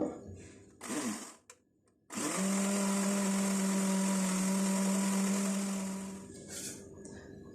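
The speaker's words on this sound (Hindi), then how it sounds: "आधी प्याली इसमें दही डाल के इसको अब हम ग्राइंड कर लेंगे ताकि इसकी एक अच्छी सी पेस्ट बन जाए" A mixer grinder grinds onion and yogurt into a paste, its motor whirring loud and steady for about four seconds before winding down, with a few short clunks and knocks before and after.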